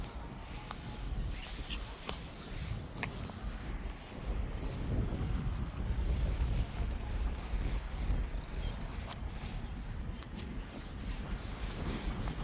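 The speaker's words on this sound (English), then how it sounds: "it is a bit breezy down here" Steady wind blowing at a beach, a constant broadband rushing roar buffeting the microphone throughout, growing slightly stronger partway through, with no voices heard.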